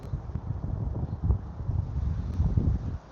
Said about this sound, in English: it is windy. I see the winds blowing this thing all over the place.